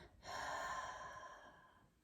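A single long exhale through the nose during a fire-breath breathing exercise, a strong breathy rush that starts abruptly and slowly fades over about two seconds, close and alone.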